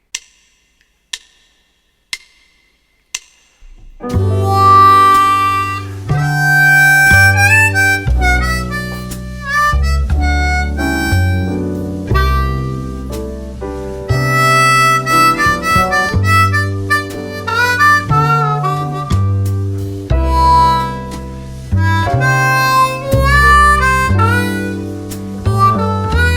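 Four sharp count-in ticks open, then a blues harmonica in C, played in second position, carries a melody over a full backing track, loud and sustained.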